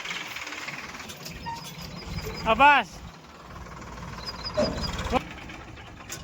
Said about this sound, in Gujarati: હાલો આવી ગયો ટ્રેક્ટર